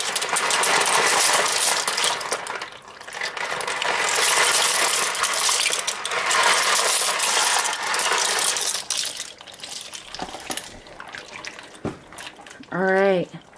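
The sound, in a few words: dry penne pasta poured from a box into a pot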